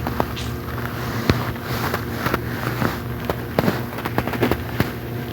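Gunfire in the PUBG Mobile battle royale game sounds as a series of sharp cracking shots at irregular intervals, some louder and some more distant, over a dense constant background rumble of game ambience.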